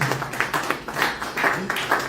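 An audience at an investment meet-and-greet event in Toronto claps, a moderate irregular patter of hands that comes and goes for a couple of seconds with some voices underneath.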